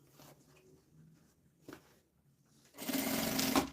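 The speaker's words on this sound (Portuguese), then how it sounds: "vou fazer uma costura bem na beiradinha" Near the end, a sewing machine sews a short, loud continuous run along the edge of a fabric bag, after quiet handling noises and soft taps.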